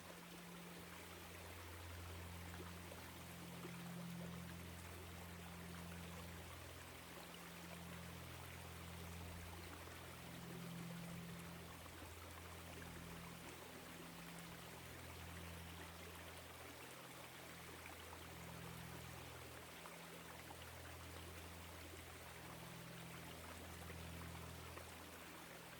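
A woodland stream in autumn flows steadily and evenly, a continuous soft rushing of water with no voices over it.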